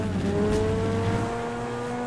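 A fast car speeding in a life-simulation video game, its engine droning steadily with a rising tone and a brief tire squeal near the start, close and continuous with no talking.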